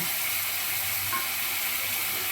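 Turmeric, cumin paste, salt and paneer butter masala spice mix sizzle steadily in a hot pan as they are stir-fried for a vegetarian potato-paneer dish, a continuous close hiss with faint stirring and no talk.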